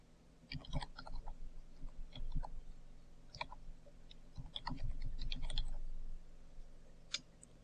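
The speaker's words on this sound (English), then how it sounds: "here you type your name and your email address" Someone types a name and email address on a computer keyboard, giving quiet, close key clicks in irregular bursts and short runs with brief pauses and no speech.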